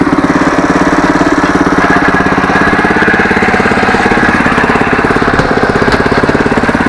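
An MTD Yardman tiller's small engine runs in gear, a loud, close, rapid chugging throb that holds a steady rhythm throughout, with no voices over it.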